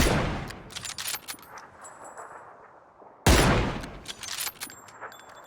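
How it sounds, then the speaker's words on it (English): Assault rifle gunfire in a battle royale video game, a loud burst of rapid shots that decays, then after a pause a second sudden burst, close and harsh, with no talk over it. "shoot this guy with the assault rifle"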